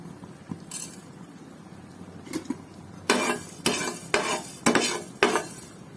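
Fenugreek seeds dry roasted in a pan for mango pickle, a spoon scraping and stirring in a few sharp strokes with light rattling of seeds, after a quieter start.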